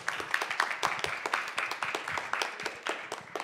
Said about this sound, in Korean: 박수 한 번 더 주시죠